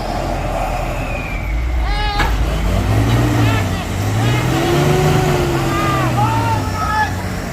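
A heavy truck on a hill climb revs hard, the engine note climbing and falling in strained surges, with air brake hisses and excited shouting from onlookers nearby.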